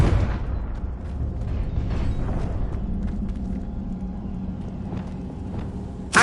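Confringo blasting spell going off in Hogwarts Legacy, a broad rumbling boom that rolls on for several seconds and fades slowly, with a sharp burst at the very end.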